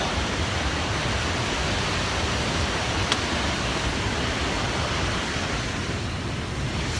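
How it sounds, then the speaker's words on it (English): A waterfall at Lake Tahoe pours in a loud, steady broadband roar that holds without change, with a little wind over the microphone and no talk. "We're here in the beautiful Tahoe, and here's a waterfall."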